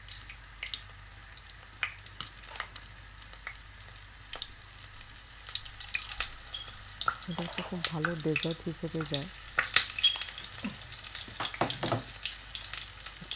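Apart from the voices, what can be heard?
urad dal dumplings frying in hot oil in a wok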